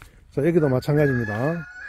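A rooster crows near a young Black Pearl fruit tree during winter pruning in an orchard, one long harmonic call of under two seconds, fairly loud and close, with someone talking briefly just before it.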